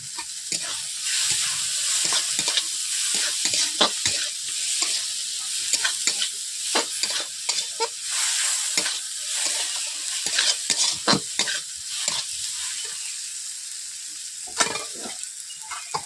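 Street-style egg chowmein stir-fries in a pan with potato fry and egg: a loud, steady sizzle close by, broken by quick, repeated scrapes and clacks of the spatula tossing the noodles, with no talking.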